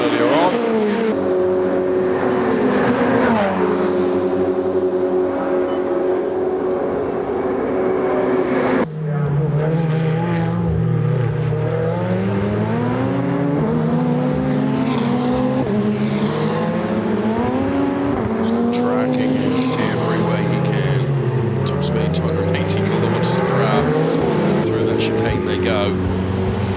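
Ferrari Challenge race cars in the Trofeo Pirelli race at Monza in 2017, engines wailing as they rise and fall through the gears and pass by, loud and continuous, with a commentator talking over them.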